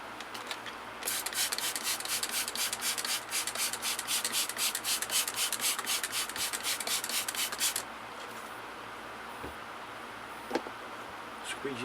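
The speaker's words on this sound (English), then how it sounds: "Squeegee that off." Squeegee wiping water off a wet page of the comic book Our Army at War 269 during conservation: rapid rhythmic rubbing strokes for several seconds, then a quieter, near-still stretch with small handling noises.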